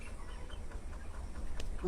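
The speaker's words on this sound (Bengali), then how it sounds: "হ্যাঁ এই মুরগিগুলো কি আপনার?" Chickens cluck softly in the background, a few faint calls over a steady low rumble lasting under two seconds.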